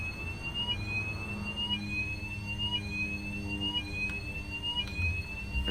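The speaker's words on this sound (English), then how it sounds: "I have alarms going off." Repeating cockpit alarm in Microsoft Flight Simulator 2020 on a bush flight in Ecuador with a failing engine, a rising electronic tone cycling about once a second over a low steady engine drone.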